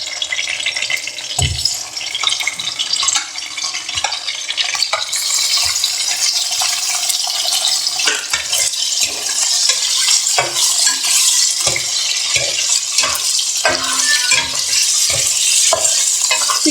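Chicken frying and sizzling in a pan, a loud continuous close sizzle with frequent metallic scraping and stirring clatters throughout.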